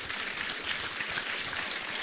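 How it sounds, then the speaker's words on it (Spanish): A church congregation at a Sunday morning service applauds in a brief, even wash of clapping, fairly faint and distant with no voices over it. "Denle un aplauso al Señor"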